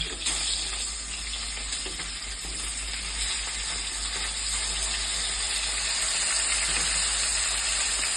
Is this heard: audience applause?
no